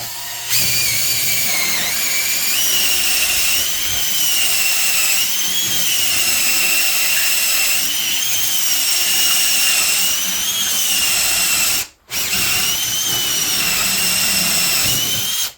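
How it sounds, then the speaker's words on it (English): A power drill spins a 1-inch hole saw through a door for the lock backset, a loud steady whine that runs continuously for about fifteen seconds, pausing briefly once before resuming. "now we're going to switch over to our 1-inch hole saw"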